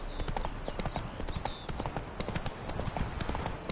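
Horse hooves clip-clop in a quick, steady rhythm in the video game The Witcher 3, close and distinct, with faint background ambience and no talking.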